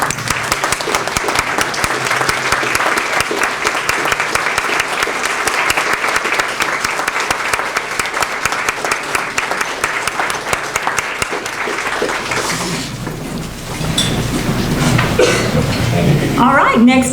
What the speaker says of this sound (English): Everyone, please stand and let's give a big round of applause to Mayor Dowling